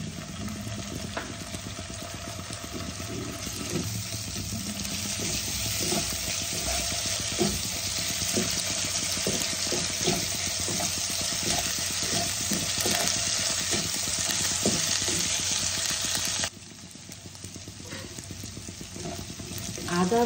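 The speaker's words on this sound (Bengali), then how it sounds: "এবার আমি এর মধ্যে অল্প যে আমি আদা আর রসুনকে বেটে রেখেছি সেটা আমি অ্যাড করে দেব" Onions fried until reddish sizzle in a pan with ground ginger and garlic paste for a boroli fish curry, a steady close hiss with stirring scrapes that suddenly drops quieter near the end.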